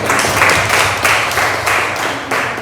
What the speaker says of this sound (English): So let's clap our hands to the Lord and thank you.